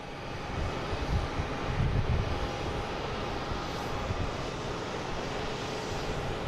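An airliner on a retirement flight passes by at Boston Logan, a continuous jet rumble swelling slightly and then holding steady, heard at a distance with some wind buffeting.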